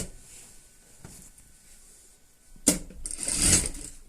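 A sewing machine stitches through a pillow case, a quiet whirr with a few clicks before a louder burst of rapid stitching toward the end, with no one speaking.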